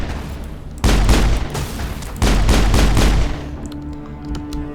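Heavy gunfire from the shooter Mass Effect erupts in two loud, booming sustained bursts close at hand, separated by a short lull and then fading into quieter background noise.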